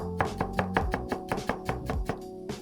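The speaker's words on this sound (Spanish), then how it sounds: "vamos a picar medio diente de ajo" A knife chops half a garlic clove on a board in quick, evenly spaced taps, about a dozen close strikes, with a tonal background bed underneath.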